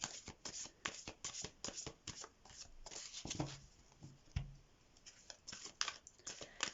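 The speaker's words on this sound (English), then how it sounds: "So let's shuffle these cards." Art of Tarot cards being shuffled by hand, soft rapid riffling and flicking bursts in an irregular rhythm, close and quiet.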